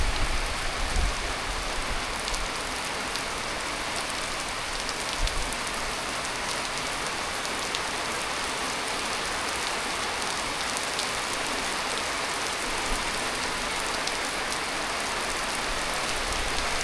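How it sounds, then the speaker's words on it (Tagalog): Heavy typhoon rain with wind, a dense, steady roar of downpour on surfaces that fills the whole stretch, loud and unbroken with occasional low gusts. "Kaninang gabi hanggang ngayon walang tigil yung ulan at yung hangin."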